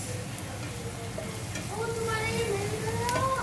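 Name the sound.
onions sizzling while frying until brown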